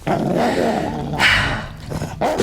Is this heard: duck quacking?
no